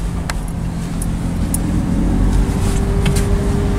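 A car creeps through the streets of Omodos village in Cyprus while searching for a parking spot, its engine and road noise a steady, close hum with a few light clicks and rattles on top.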